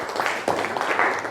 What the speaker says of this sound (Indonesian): Tepuk tangan buat kelompok Bogor.